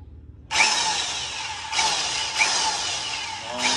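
Electric concrete vibrator motor starts up and runs steadily during a test, a loud continuous whining buzz with slight surges, close by and without talk.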